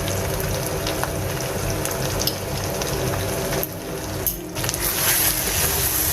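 Canned red kidney beans frying in a hot pan during a Goan chicken roast with choris, giving a steady, close sizzle with a brief dip midway before the hiss picks back up.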